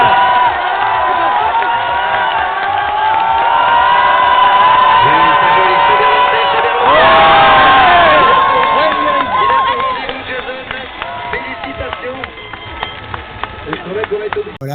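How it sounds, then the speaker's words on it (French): A large crowd of spectators cheers and roars at a 2010 ski jumping event in Chaux-Neuve, a loud sustained din of voices with a surge of whooping in the middle before it thins into scattered shouts. "pour les spectateurs, il y a cet effet foule qui est magnifique"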